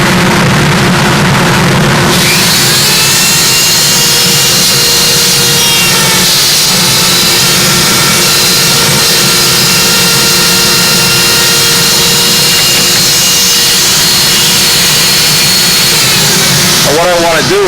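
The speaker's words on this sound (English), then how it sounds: "So what I'm going to do is get a little half moon piece cut in here, do that with a Dremel tool" A Dremel rotary tool cuts a half-moon notch in a support block, a loud, continuous high-pitched whine that holds steady for most of the stretch, starting and stopping sharply, close up.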